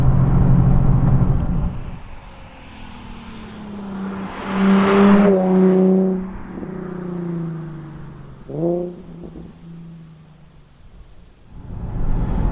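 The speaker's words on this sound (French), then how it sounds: "l'échappement a été modifié, donc le silencieux a été supprimé" A Nissan 370Z GT Edition with its exhaust silencer removed, the engine revving up loudly then dropping and rising again in sharp pitch sweeps, near and clear without talk.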